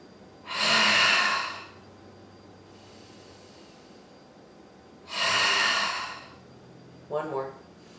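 Deep, slow breaths during a relaxation exercise: two long, airy inhale-exhale cycles, close and clear, with a short softer breath at the end.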